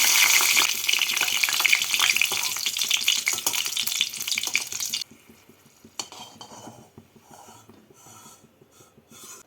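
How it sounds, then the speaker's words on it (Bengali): Dried red chillies fry in hot mustard oil with a loud, bright sizzle and crackle for several seconds before the hiss suddenly drops to faint sputtering, punctuated by a few light scrapes and clinks of a utensil against the pan. "আমি তিনটে শুকনো লঙ্কা ভেজে নিচ্ছি"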